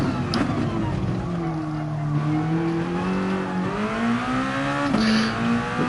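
A race car in a racing game at the Red Bull Ring, engine held on throttle with a steady droning pitch that shifts as the car bounces over a curb, with brief tire scrub and a sharp jolt near the end.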